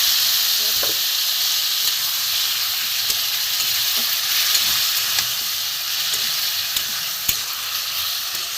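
Potatoes being sautéed in a pan with onion and garlic, a loud continuous close sizzle with occasional small clicks of stirring, steady throughout.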